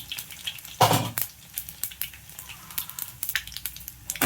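Mustard seeds, cumin and chana dal fry in hot oil for pappu charu, crackling steadily up close, with one loud burst of sizzle early on and light stirring scrapes throughout.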